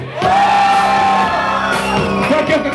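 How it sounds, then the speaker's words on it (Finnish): A festival crowd at KorvaBoosti shouts on command, a loud, sustained mass of yelling and whooping voices lasting a few seconds close to the microphone. "Kaikki jotka on käännissä huutakaa."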